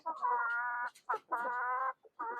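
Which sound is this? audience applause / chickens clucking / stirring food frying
chickens clucking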